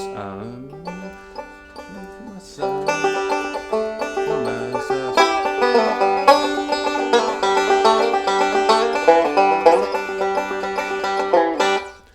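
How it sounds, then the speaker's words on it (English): A picked string instrument plays a quick bluegrass run in G, starting with a few sparse notes and then a brisk, bright melodic lick that rings out. "here's your two measures of G licks you can start messing around with"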